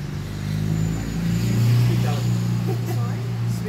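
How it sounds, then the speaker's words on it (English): Cars driving past outdoors make a steady low road rumble that swells and fades under close conversation, with people talking throughout. "these cars going by are very noisy too"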